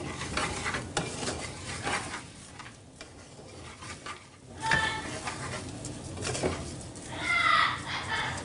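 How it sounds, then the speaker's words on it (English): Rice is stirred and toasted in a hot pan, with a scraping utensil moving through the grains and a light sizzle in brief bursts, close and fairly quiet, no voices. "we want to keep stirring it because obviously the stuff on the bottom is going to start to cook a little faster"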